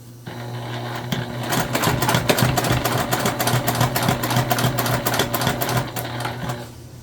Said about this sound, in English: we're just putting a nice top stitch on